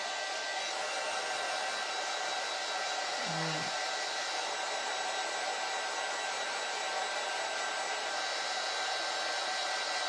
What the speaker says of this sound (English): I'm drying it right here at the bottom because I want to make sure that I'm able to place it on the table.